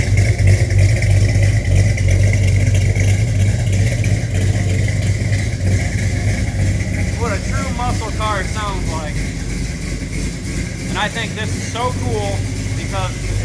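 A 1972 Chevrolet Chevelle SS 350 V8 with original automatic transmission and a little racing fuel idles steadily, a loud, continuous low rumble throughout, while someone talks over it.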